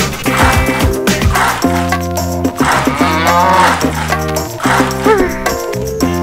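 Several loud, drawn-out cow moos follow one another closely, layered with music and other game-like sounds, from the PC game Schlag den Raab.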